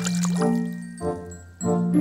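Water pours and splashes in bursts while plastic toy animals, a rhino among them, are washed, with short gaps between the close pours.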